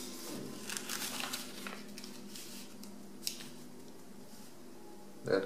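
Sheets of paper being creased and folded into a DART paper airplane, giving soft, close crinkles and scrapes with a few sharper crisp snaps, quiet throughout.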